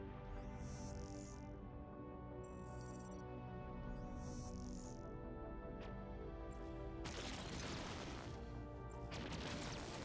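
Space battle in Endless Space 2 with starships trading fire: sharp bursts and crashes of weapon impacts layered over a droning, tonal soundtrack, with short ping-like shots recurring.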